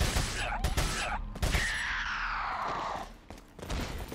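Gunfire from an enemy in Resident Evil 4: sharp close shots at the start followed by a long ringing, whining tail that fades out.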